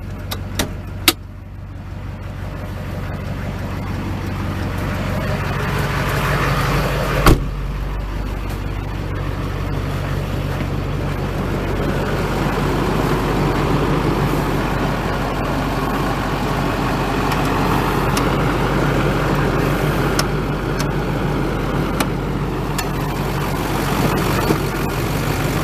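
A 2005 Chevy Silverado 2500 HD with the 6.6 liter Duramax turbo diesel idling steadily up close, a continuous low rumble with a loud clack near the start and another around the middle.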